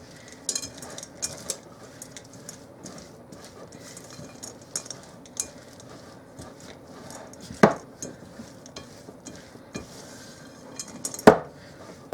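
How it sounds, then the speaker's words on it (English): A spoon folds walnuts, chocolate chips and dried cranberries into a bowl of breakfast cookie dough, giving soft scraping and scattered clinks against the bowl, with two sharper knocks near the end. "So I'm just going to fold that all in together really good"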